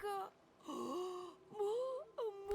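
Shark growls in the video game Divinity 2, a series of drawn-out, wavering moaning cries with pitch that bends up and down, several separate calls close and clear.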